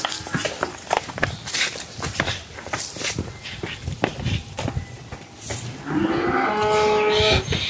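Friesian heifers on a farm, loud close moos rising over shuffling hooves and footsteps, with a long drawn-out low call near the end.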